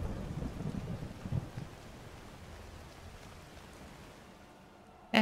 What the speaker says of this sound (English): Wish it wasn't raining and thundering.